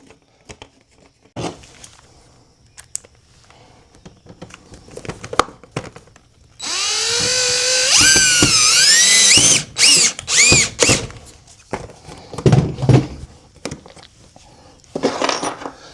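A power drill drives screws to fasten brackets down on a homestead window. Its loud, whining run lasts about three seconds, then stops and starts in short bursts, followed by rattling clatter of tools and hardware close by.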